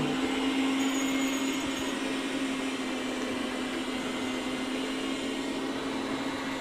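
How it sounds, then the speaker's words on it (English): An iRobot Roomba J7 combo robot vacuum runs steadily nearby, a continuous whirring motor hum with a constant airy suction hiss and no pauses. "So I told this is the iRobot Roomba J7 combo. I told it to go clean another area."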